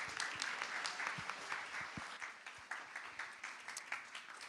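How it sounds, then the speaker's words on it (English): Crowd applause for a speaker at an evening UX meetup, continuous clapping from a mid-sized audience with sharp individual claps standing out, quite faint and slowly tapering. "everyone, give a huge round of applause for Svea."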